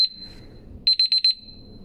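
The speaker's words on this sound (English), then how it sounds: "that's my timer telling me that my 2 hours are up" A timer alarm sounds a high electronic tone, then a quick burst of four or five rapid beeps followed by a sustained tone, loud and close, with soft low background rumble between.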